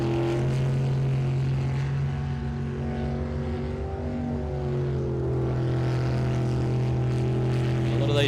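A V8 superboat racing engine drones loudly and steadily at a distance, its pitch rising and falling slightly as the revs shift, with no voices over it.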